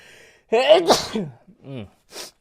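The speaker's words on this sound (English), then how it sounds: "I'm like getting ready to sneeze." A single loud, close human sneeze with a sharp intake of breath beforehand, followed by brief exhaled vocal sounds.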